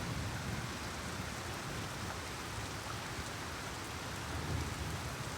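Heavy rain pours steadily at night in Detroit, Michigan, a dense continuous hiss of drops hitting surfaces that stays loud and even throughout, with no voices.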